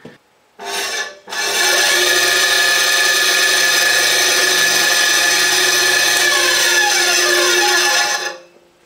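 An ATIKA BS 205 bandsaw starts with two short bursts, then runs steadily and loudly for about seven seconds with a bright, even whine and rasp before winding down.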